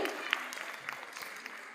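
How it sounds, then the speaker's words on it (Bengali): Audience clapping at an honouring ceremony: a fairly faint, steady patter of many hands over about two seconds, with a voice speaking over it. "সকলে একটু জোরে হাততালি দেবেন"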